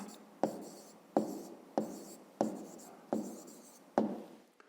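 Pen strokes across paper as a maths answer about roses is written out by hand, six sharp scratching strokes in a steady rhythm, each one starting hard and fading, close and alone.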